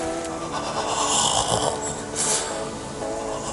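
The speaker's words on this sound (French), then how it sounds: "à cette scène j'ai une respiration un peu bizarre" Odd, heavy breathing of an actor lying in a cold river, rasping and snore-like in steady drawn-out pulses, close and fairly loud against a rushing water wash.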